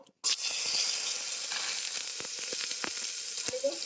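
Tomatoes drop into hot oil tempered with cumin, asafoetida and turmeric for plain dal, bursting into a loud continuous sizzle with small crackles and the scrape of stirring.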